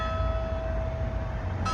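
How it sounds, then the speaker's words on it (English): A church bell chimes behind a city park, a steady ringing tone sustained against low background rumble, fairly faint and with no talk. "there's a church behind me, and the bells are chiming"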